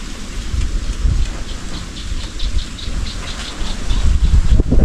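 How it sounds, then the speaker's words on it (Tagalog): Strong wind at the sea roaring steadily with low rumbling gusts and a broad hiss, outdoors and close, with no one talking. "Dagat po, lakas ng hangin."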